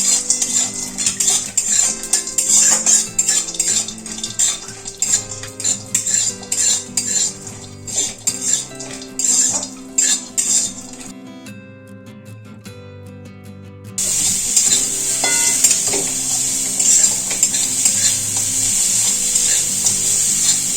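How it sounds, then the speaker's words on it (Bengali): Cashews, raisins and grated coconut fried in ghee in a kadai, with loud metal spoon clinks and scrapes over a bright hiss; the sizzle drops out briefly midway, then returns stronger and steady. "কাজু, কিশমিশ, নারকেল ভেজে নেব।"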